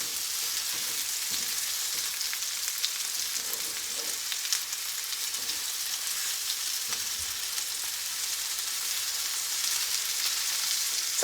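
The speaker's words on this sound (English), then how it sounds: "Yes, it's sizzling." Chicken cordon bleu sizzles steadily in a skillet, a constant bright frying hiss that stays even and unbroken, with no voices over it.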